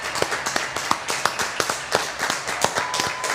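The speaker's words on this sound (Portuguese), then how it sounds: "recebam as nossas palmas pelo exemplo, pela dedicação" Clapping in tribute to health professionals during the coronavirus outbreak in Rio Grande, sharp individual claps in an uneven rhythm, close and fairly loud, from a few people rather than a crowd.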